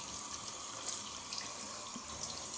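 Cold water running steadily from a tap for contrast hydrotherapy, a soft continuous hiss and splash, close and fairly quiet, with no voices.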